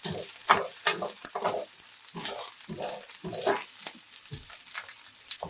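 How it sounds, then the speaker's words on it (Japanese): Komatsuna stems and chikuwa stir-fry in a frying pan with close, crackling sizzle that swells and fades in repeated bursts as the ingredients are tossed, with no voices. "小松菜の茎とちくわを同時に加えます。 1分30秒ほど炒めていきましょう。"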